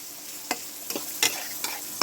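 A pan of bottle gourd is stir-fried in oil over low heat, with five distinct scraping stirs at a steady pace of about every 0.4 seconds over a soft, continuous sizzle.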